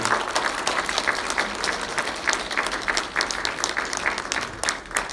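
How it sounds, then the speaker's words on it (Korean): An audience at a poetry interview event applauds: steady, moderately loud clapping from a crowd, with individual hand claps standing out in a brisk rhythm throughout. "박수 한번 쳐주실래요?"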